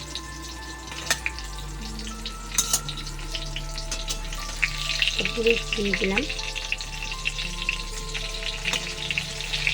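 Slices of pointed gourd (potol) frying in hot oil, with a continuous close sizzle and crackle and occasional utensil clicks, while someone briefly speaks.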